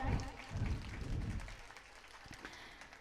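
Applause from an audience at a school annual function, a burst of clapping that starts fairly loud and fades quickly into scattered claps.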